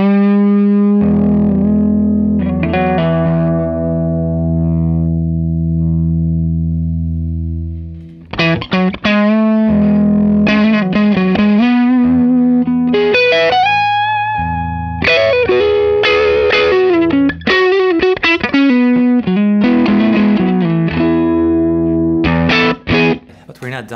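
Electric guitar played through a Matchless HC-30 amp with delay and reverb: a long sustained chord rings out and decays for several seconds, then bursts of bright picked notes and chords follow, with the repeats and wash trailing behind, loud and close.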